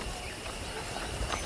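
Horse hooves clip-clop in the video game Red Dead Redemption, a faint uneven patter of steps under a dense ambient wash.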